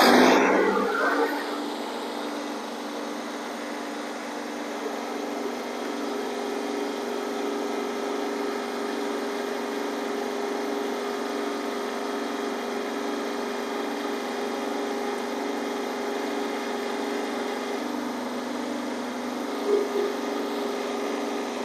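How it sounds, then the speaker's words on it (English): Kubota B Series tractor engine starting with a short loud burst, then settling into a steady, even idle that runs on alone. "So, Chris, fire it up"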